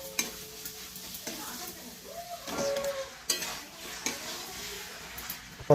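Chicken meat tipped into fried spice paste in a pan and stirred, with a steady sizzle and several sharp scrapes and clinks of a spoon against the pan.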